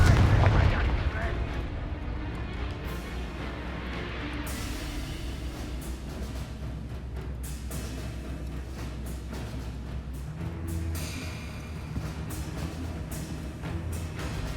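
Confringo blasting-spell explosions in Hogwarts Legacy, deep booms and rumbling bursts layered over the game's battle noise and music, loud and sustained, with a voice speaking over it.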